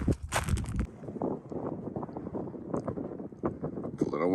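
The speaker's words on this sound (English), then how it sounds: "It's a little windy here on our first morning in Vicksburg." Gusty morning wind at a BLM boondocking campsite near Vicksburg, with a loud buffeting roar across the microphone at first, then a steadier rustling wind under faint voices.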